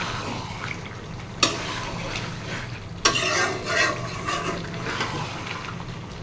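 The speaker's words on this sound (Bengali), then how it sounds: "এবার নাড়া দিতে হবে ঘন ঘন, যাতে মাংসটা তলায় না লেগে যায়।" A spoon stirs spicy chicken curry in a pot, making quiet, continuous scraping and sizzling sounds broken by two sharp knocks against the pot.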